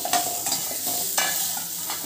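A spatula scrapes and stirs vegetables frying in a pan for no-onion, no-garlic vegetable rice, with a steady sizzle and several distinct scraping strokes close by.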